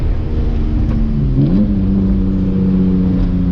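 A Dodge SRT engine revs loudly nearby, a strong steady drone that rises in pitch partway through, with no talking over it.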